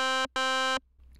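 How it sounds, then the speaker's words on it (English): An FM synthesizer tone from Ableton Operator with stacked operators plays as two bright, buzzy sustained notes in quick succession, the second longer, followed by a faint low rumble. "So the other thing to note with Ableton's operator is it's an FM synthesizer."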